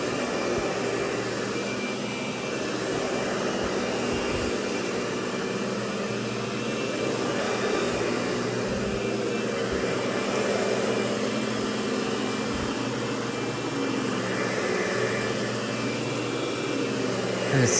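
A Lindhaus Diamante 300 El vacuum cleaner runs steadily throughout, a loud continuous motor whine with airy suction noise and a few brief bumps as it is pushed across the floor, no talking.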